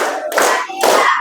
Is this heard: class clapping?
yes